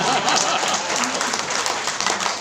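A church congregation breaks into applause during a sermon, a dense, steady patter of many hands clapping that fills the room without pause.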